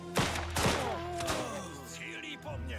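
Gunfire in the video game Last Train Home, several sharp reports in quick succession amid a busy battle mix with ringing tones, moderately loud.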